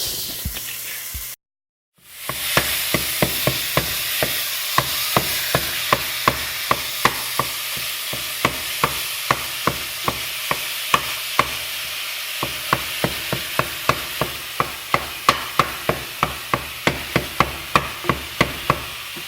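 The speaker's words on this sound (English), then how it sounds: "we can watch me brown the meat" Ground meat browning in a pan for enchiladas, a steady close frying hiss punctuated by a regular series of sharp scraping stirs, after a brief silent gap near the start.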